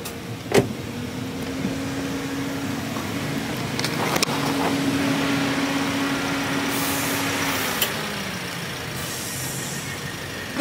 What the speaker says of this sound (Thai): Now we stop for put the air in tire.